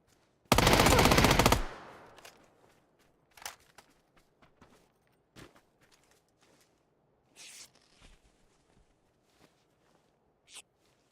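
Gunfire in the battle royale game PUBG: a loud, dense burst of automatic shots at the start, then scattered faint footsteps, rustles and a few distant cracks.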